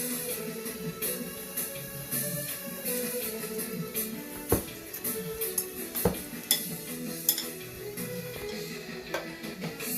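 Hot oil sizzles continuously as Haitian akra fritters fry, while a utensil stirs and clinks against the pan, with a few sharp metallic taps.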